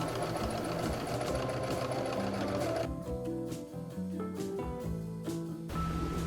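Sewing machine stitching closed the seam of a thrifted button-down shirt to form a band collar, a steady close mechanical whir that pauses midway and then resumes in short running bursts.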